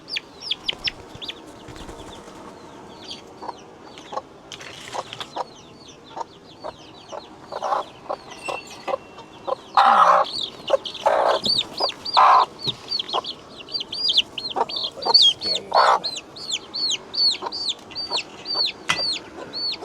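A backyard hen clucks repeatedly with short, bright calls over a busy farmyard of other chickens, with clucks and chirps close and steady throughout and a few louder bursts in the middle.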